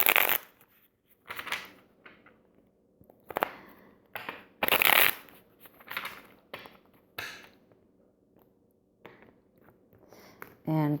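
Tarot cards being shuffled by hand, heard as a series of close, crisp riffling and sliding bursts separated by brief pauses over several seconds.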